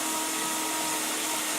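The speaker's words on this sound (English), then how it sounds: "You put your drill through it, it'll go down to where it needs to be" A power drill bores through a quadcopter frame with a steady, loud, high whirring grind that holds evenly throughout, with no talking over it.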